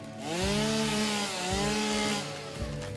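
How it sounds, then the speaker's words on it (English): Chainsaw in the game Satisfactory revving up with rising and falling engine whine over a rough buzzing roar, several revs in a row, close and loud. "Yeah, the chainsaw sound, the roar of it."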